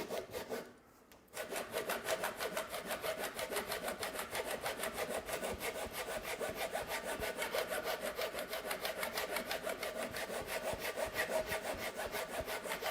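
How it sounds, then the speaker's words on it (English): A Japanese pull saw cutting a kerf in wet cedar for a mailbox post, its rapid, even rasping strokes repeating steadily and close, after a short pause near the start. "So this is a Japanese style saw. It cuts on the pull stroke."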